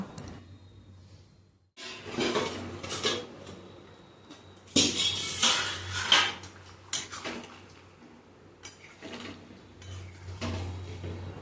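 A lid clatters onto a pan of simmering elephant foot yam curry in a home kitchen, with metal knocks and scrapes of cookware in several bursts and no talking.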